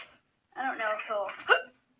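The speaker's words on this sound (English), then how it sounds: "hiccups" A baby monkey gives a few sharp, close hiccups, small abrupt voiced bursts after a brief quiet start, with the last one loudest.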